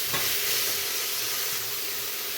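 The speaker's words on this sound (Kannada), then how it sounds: "ಎಲ್ಲವೂ ಹಾಕ್ಕೊಂಡು ಫ್ರೈ ಆಗ್ತಾ ಹೋಗಬೇಕು." Tomatoes, garlic paste and spices fry in a pan for palak paneer, giving a soft continuous sizzle and hiss with light stirring scrapes, fairly close and steady, no voices.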